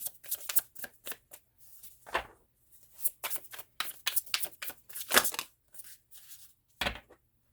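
Tarot cards being shuffled, heard as quick rustling riffles and soft snaps in irregular bursts throughout, close and fairly quiet.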